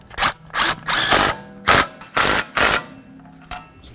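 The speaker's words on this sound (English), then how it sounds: "now we can go ahead and bottom out each of our bolts" A power tool drives in the rear wheel bearing hub bolts on a 2000-2005 Buick LeSabre, loud close bursts of rattling impact, about six short runs separated by brief pauses, then a faint final tap.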